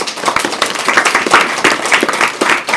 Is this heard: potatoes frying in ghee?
no